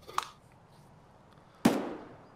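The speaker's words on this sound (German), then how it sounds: "Ich habe gerade noch einen Schuss gehört." Two sharp gunshot bangs in the video game Escape from Tarkov, a small one near the start and a louder one later with a short trailing echo, in an otherwise quiet scene.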